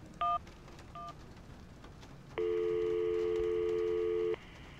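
Phone dialing tones in the adventure game Syberia: two brief keypad beeps, then a loud, steady dial or ringing tone held for about two seconds, with no talking.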